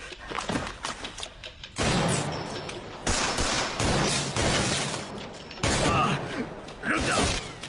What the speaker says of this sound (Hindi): रुक जाओ, गोलियां मत चलाओ। इतनी गोलियां क्यों चलाते हो तुम लोग?